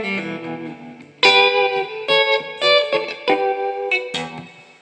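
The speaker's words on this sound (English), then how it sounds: "my main sound, and I don't really drift off from this kind of tone often, is tremolo and reverb" An electric guitar plays through a Vox VT40x amp set with tremolo and reverb, loud, clear, ringing chords and notes struck in a loose rhythm, each one pulsing and trailing off into a wash of reverb, with no voices.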